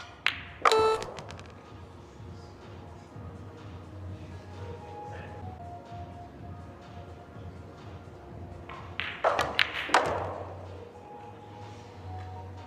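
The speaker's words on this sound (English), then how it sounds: "Feels like he just absolutely crushed that ball, but the cue ball just didn't do much." In a billiards match, a pool cue strikes the ball: a sharp click near the start and another cluster of hard clacks near the end, with a quiet hall murmur between them.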